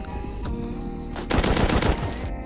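Automatic turret in the survival game Rust opens fire in a loud, rapid burst of gunshots lasting about a second, following quieter background game sounds.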